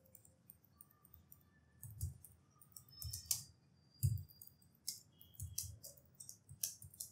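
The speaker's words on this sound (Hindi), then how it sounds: "फॉर एग्जांपल आपको मैं टाइप करके दिखाता हूं" Typing on an Asus TUF Gaming A15 laptop keyboard, bursts of quick soft key clicks with short pauses between, close and fairly quiet, no speech.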